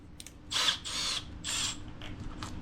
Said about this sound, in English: Drill that pilot hole with your 1/8 inch drill bit